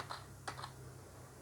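A few quick keystrokes on a computer keyboard, close and fairly faint, pressed to delete lines of Python code during programming of an RNV3 robot arm, over a low steady electrical hum.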